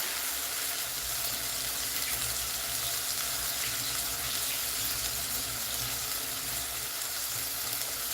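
Tap water runs steadily into a kitchen sink as a cooking utensil is rinsed, a continuous close hiss and splash with no talk, while a pan of small fish cooks nearby.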